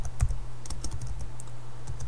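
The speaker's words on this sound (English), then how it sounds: "this is where we're going to type in the URL that we want to go to" A URL being typed on a computer keyboard: a quick run of close, crisp key clicks with uneven spacing and a low hum beneath, no voices.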